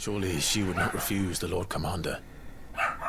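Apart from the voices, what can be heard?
dog barking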